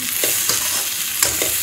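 Vegetables sizzle steadily in a hot pan while a utensil stirs them in a few rhythmic scraping strokes, close up, with no talking.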